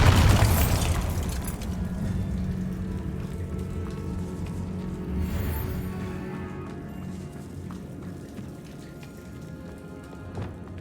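A Bombarda blast spell goes off in Hogwarts Legacy with a sharp boom at the start, followed by a long rumbling, crackling decay of debris.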